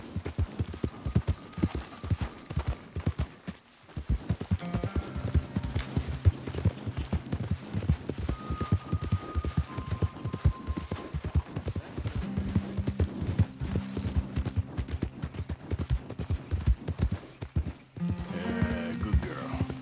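Horse hooves clip-clop in a steady, rapid rhythm in Red Dead Redemption 2, loud and continuous with a brief pause and an occasional whinny, under game music and ambience.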